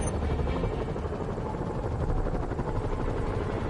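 Steady, loud helicopter rotor drone in Spider-Man gameplay, with a rapid thudding chop, continuous throughout with a noisy roar over it and no voices.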